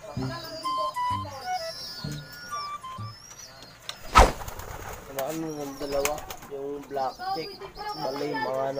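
Racing pigeons coo in soft, repeated bursts, near and moderate in volume, while someone talks over them and a sharp click cuts in midway.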